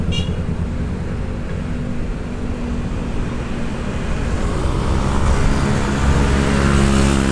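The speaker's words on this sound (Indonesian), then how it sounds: "beginilah teman-teman keseharian kehidupan lalu lintas di Jakarta. Rame, di mana-mana rame." Busy Jakarta road traffic with motorbikes and cars, a dense, continuous rumble of engines close by, building slightly as vehicles accelerate and pass, with no talk over it.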